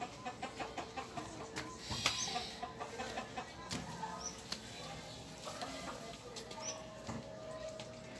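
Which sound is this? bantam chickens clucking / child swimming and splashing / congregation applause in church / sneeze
bantam chickens clucking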